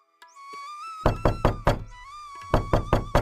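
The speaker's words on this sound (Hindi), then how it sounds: "इतने में बाहर दरवाजा खटखटाने की आवाज आई।" Knocking on a wooden door: two loud, close bursts of rapid raps, each three or four knocks, separated by a short pause, over a steady musical background.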